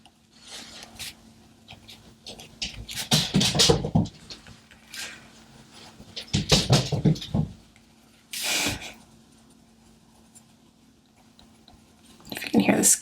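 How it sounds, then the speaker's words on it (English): Lilo, a small pet dog, scampers and scuffles indoors while playing with some object, in irregular bursts of close scratchy rustling, with someone speaking at times between them. "If you can hear the scampering in the background, Miss Lilo found something to play with."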